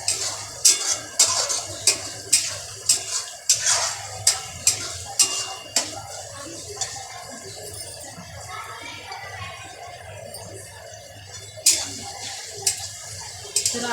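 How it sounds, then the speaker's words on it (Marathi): Tomatoes for pav bhaji are sautéed in a pan while a spoon scrapes and knocks against the metal in a steady series of sharp clinks over a faint sizzle. "तर आपला टोमॅटो चांगला परतत आलेला आहे आणि अजून आपण"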